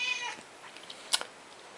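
A house cat gives a short meow right at the start, close by, followed by faint rustles and a couple of brief clicks from cards being handled nearby.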